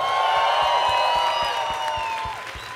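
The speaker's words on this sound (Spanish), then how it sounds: "Un aplauso para Alexa Suárez." A studio audience applauding and cheering as a guest is welcomed onto a television show, dense sustained clapping and whoops, loud and close, fading slightly at the end.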